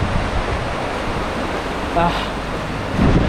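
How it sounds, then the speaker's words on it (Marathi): A steady, roaring rush of water from a mountain stream swollen by heavy rain near Koyna, broad and loud like a stream in spate, with a faint voice briefly audible beneath. "किती पाऊस पडतो आहे ओढा आवाज करतो"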